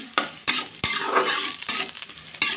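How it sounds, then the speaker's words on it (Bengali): Biryani spice paste fries in oil in a pan, sizzling steadily while a spoon scrapes and stirs it in sharp, irregular strokes close by. "আমার বিরিয়ানির মশলাটা পুরো কষে তেল উঠে গেছে"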